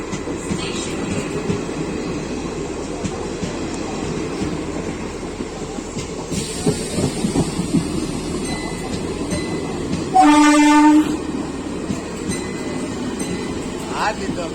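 The Rani Shiromoni Express train rumbles along with continuous rail noise and clatter, and a loud horn blast sounds for about a second partway through.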